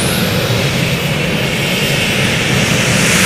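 A light modified pulling tractor engine screams at full throttle at a county junior fair pull in Cerro Gordo, a loud, continuous, steady roar with no break.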